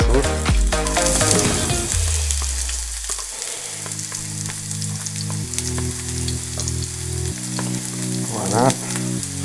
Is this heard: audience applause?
no